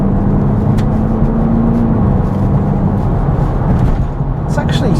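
A 2021 Hyundai Elantra N Line pulls hard under acceleration, its engine note rising steadily with a droning whir and road noise heard from inside the cabin, loud and continuous.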